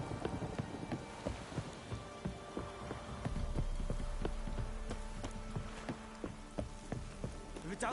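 Steady rain patters down with scattered drips and light knocks, a dense, even wash of sound with no voices.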